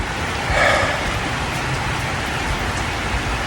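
Steady rain pours down outdoors during a walk while camping in an RV, a dense, even hiss of drops on surfaces holding at the same level throughout, with no voices.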